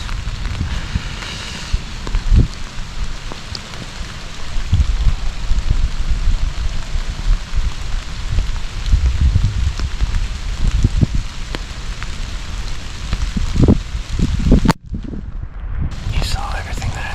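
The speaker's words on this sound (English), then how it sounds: "it's on and off, just like between a light mist to some good downpours." Rain falling steadily in Wisconsin woods during a late fall bow hunt, a dense close patter on leaves and clothing that swells between mist and heavier downpour, with rustling movement and a few nearby bumps.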